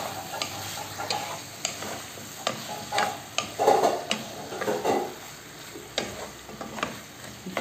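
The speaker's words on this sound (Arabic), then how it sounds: "نخلي دوك الشطيحه تاعي هكا تقلى واحد الخمس دقائق" Chetitha, a spiced stew base with garlic and cumin, fries gently in a pan while a utensil stirs it. A soft sizzle runs under intermittent scraping clicks and taps of cutlery against the pot.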